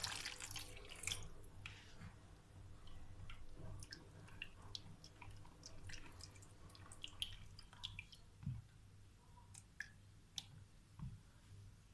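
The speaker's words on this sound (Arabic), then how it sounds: "هجيب بقى كوباية مية وهنحطها" A cup of water is poured into a kitchen mix of fava beans and vinegar, heard as a faint splashing trickle with scattered drips and light clicks in a quiet room.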